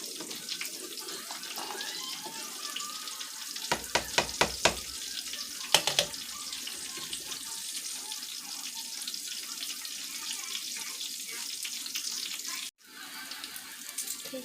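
Vegan BBQ tofu fries in a pan with a steady, close sizzle, broken by a few sharp clicks and taps of utensils. No voices are heard.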